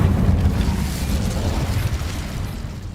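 An Incendio fire spell is cast in the video game Hogwarts Legacy, giving a loud, deep, rumbling burst of flame that roars steadily for about three seconds with no voices.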